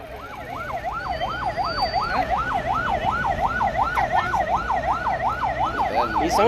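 A wailing siren cycles up and down in steady rapid sweeps, loud and continuous, with traffic rumble beneath.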